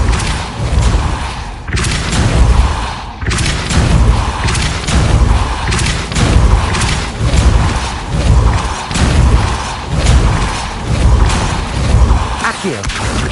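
Depulso force spell impacts in Hogwarts Legacy, a steady run of heavy booming thumps and whooshes at a regular rhythm, loud and close, with no talk over them.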